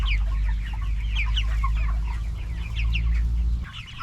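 A flock of about 100 meat chickens, roughly six weeks old, clucks and chirps continuously and close up over a steady low hum, with no one speaking.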